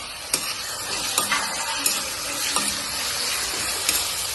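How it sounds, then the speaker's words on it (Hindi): Onions, tomatoes and spices frying in a pan, a steady bright sizzle with sharp scraping clicks from stirring at irregular moments. "और प्याज जो है हल्की सी फ्राई होगी"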